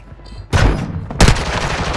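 Loud gunfire bursts in Call of Duty Warzone, a short distant shot followed by two heavy close blasts with trailing rattle.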